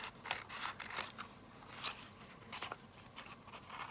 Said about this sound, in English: Now I can trim up these edges.